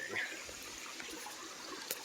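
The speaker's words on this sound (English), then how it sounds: "Got a little waterfall." Water trickling from a small waterfall beside a pond at a camp, a soft continuous splashing at low level with a brief brighter spatter near the end, no speech.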